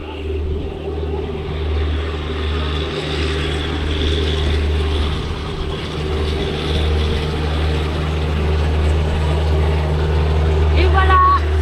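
A large Manitou telehandler drives up beside a boat to lift out its small engine, a steady heavy diesel drone with strong low rumble running throughout, with voices talking over it.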